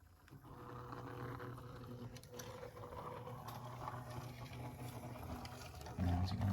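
A small Viessmann Car Motion model car climbs a hill on a layout, giving off a faint, steady mechanical whir and ratcheting gear buzz that grows louder near the end.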